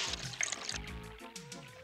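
Water sprays and splashes in a steady rush, with gurgling surges and trickles close by, from a cartoon creature's hose-like nose washing others down.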